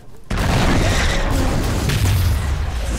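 A loud, deep explosion from the film Alien Covenant, bursting suddenly after a brief quiet moment and rumbling heavily for several seconds.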